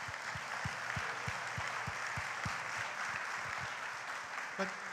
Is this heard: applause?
yes